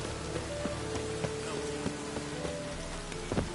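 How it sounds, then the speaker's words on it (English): Steady rain pours down in the video game The Witcher 3 on PS4, with a constant dense hiss, individual drops pattering close by, and a faint low rumble beneath. "Rain was coming."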